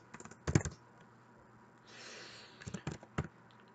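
Code being typed on a computer keyboard comes through as a few quiet clusters of quick keystrokes separated by short pauses, close by and faint.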